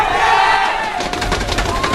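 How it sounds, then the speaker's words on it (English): A packed esports arena crowd erupts into loud, sustained cheering and roaring during a StarCraft II Wings of Liberty match on Metalopolis, a dense wall of voices throughout with excited shouts rising above. "The crowd goes wild."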